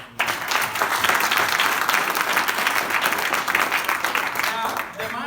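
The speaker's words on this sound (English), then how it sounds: "So a big round of applause on a positive day where we can see all family and friends." Sustained, loud clapping and cheering from a wedding crowd of family and friends during a best man's speech, dense and continuous for several seconds before thinning out near the end.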